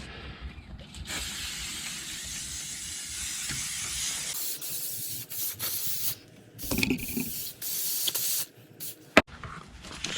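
Aerosol GT85 lubricant sprayed over an RC car during cleaning, heard as steady hissing bursts broken by short pauses and a few sharper clicks and rubs, fairly close and without voices.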